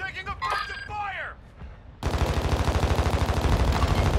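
Rapid automatic gunfire in Call of Duty Warzone 2 on Ashika Island, a loud sustained burst of evenly spaced shots that cuts in after a stretch of game voice chatter and other effects.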